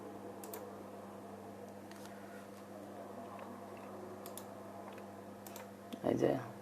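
Soft, fast keystrokes on a computer keyboard typing a name into a YouTube search box, light clicks in short bursts over a low steady hum, with a louder brief rustle at the end.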